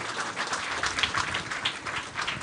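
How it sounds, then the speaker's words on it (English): An audience at a medical history oration applauds the speaker, a steady wash of clapping that is fairly faint and heard from across the hall. "doesn't he deserve another round of applause?"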